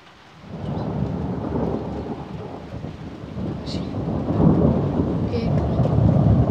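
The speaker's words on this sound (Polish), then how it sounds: "Będzie grzmot." Thunder rolling during a rainstorm, starting a moment in and building into a long low rumble that swells louder toward the end, with rain pattering throughout.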